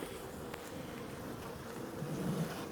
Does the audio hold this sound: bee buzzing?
yes